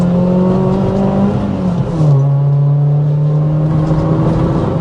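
Ford Fiesta ST150 hot hatch accelerating hard in second gear, engine note climbing steadily, dipping briefly at a shift-like break, then pulling again loud and close from inside the cabin.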